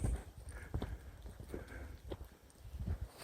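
Irregular clip-clop of horse hooves walking on hard ground near a railway crossing, moderately close, with rustling and low rumbling in the background.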